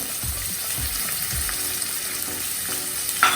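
Chopped carrots, green peas and other mixed vegetables fry in a pan with a steady hiss, a few low thumps at the start and a short scrape near the end, no voices.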